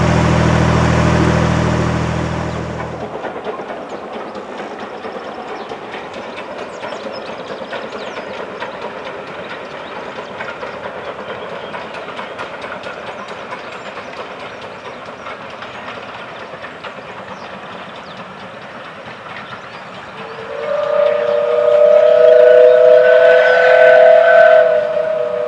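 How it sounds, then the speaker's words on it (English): A steam train rumbles past steadily for a long stretch near the Ashby Canal, then its loud whistle blows near the end. "lucky enough to hear a steam train coming"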